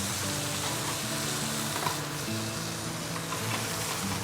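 Cornish game hens sear and brown in a pan, giving a constant close sizzle with a faint crackle running unbroken throughout.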